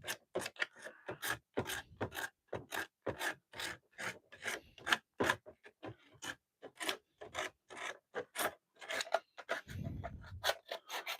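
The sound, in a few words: scratching up an epoxy sculpt surface for grip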